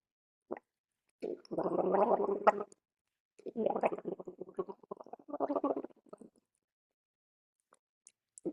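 A person gargles water as a vocal warm-up, two or three wet, bubbling bursts of a few seconds each, close and fairly quiet, separated by short silences.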